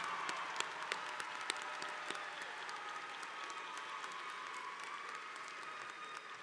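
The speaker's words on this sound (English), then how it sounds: "Give her a round of applause." Applause at a university commencement ceremony, a large crowd clapping steadily and evenly at a distance in a big hall, sustained throughout with a few sharper individual claps standing out.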